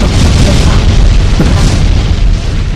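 Loud, sustained booming explosion effects from the FIFA 16 FUT Draft video game fill the clip, a dense continuous roar without distinct separate blasts.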